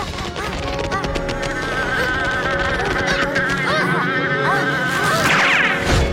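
A cartoon bee buzzes loudly and continuously with a wavering, whining tone over busy background music and sound effects.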